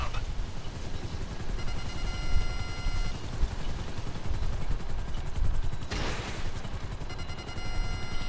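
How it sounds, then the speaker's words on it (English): Helicopter rotor thrum and bursts of gunfire fill a busy video game battle, with rapid machine-gun fusillades and a sharp blast near the middle, all fairly faint and continuous. "Just lock onto the helicopters."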